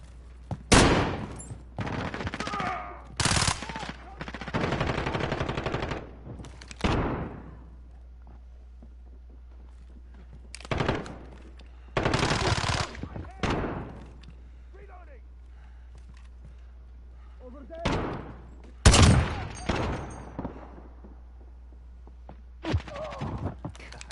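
Bursts of rifle gunfire in Call of Duty Modern Warfare, loud clustered volleys of shots separated by quiet gaps, with brief talk between them.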